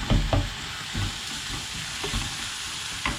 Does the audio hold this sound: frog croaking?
no